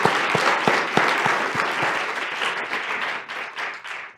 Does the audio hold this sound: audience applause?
yes